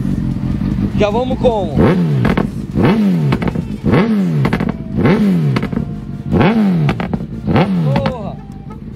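A Honda CB1000 motorcycle engine revs repeatedly in loud, rising surges, roughly one per second, with people talking over it throughout.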